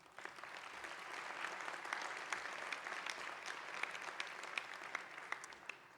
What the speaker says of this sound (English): Let us give these 2 iconic AUCians a round of applause.